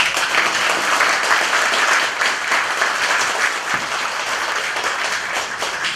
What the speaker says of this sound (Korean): 한 번 더 박수 주시죠